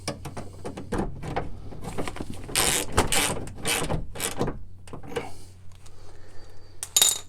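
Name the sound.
fastening bolts on a car power window regulator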